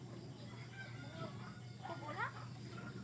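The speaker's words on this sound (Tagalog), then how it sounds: "May mga manok tayong ito, nangingitlog, no?" Chickens cluck softly in the distance against a steady low hum, with a few rising and falling calls.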